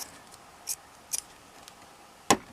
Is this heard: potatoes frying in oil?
no